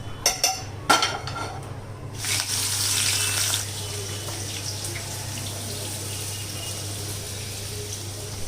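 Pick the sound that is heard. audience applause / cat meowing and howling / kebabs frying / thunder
kebabs frying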